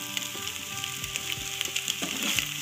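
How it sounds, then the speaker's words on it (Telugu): Eggs fry in a hot pan for egg fried rice, a steady close sizzle with scattered crackles and soft scraping stirs throughout, no voices over it. "ఇలా ఫ్రై చేసుకోండి, అవి ఒక్క పీసెస్ టైట్ అయ్యేదాకా"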